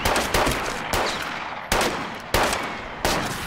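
Loud bursts of gunfire crack out in a rapid series, some shots clustered close together and others spaced apart, with no talk over them.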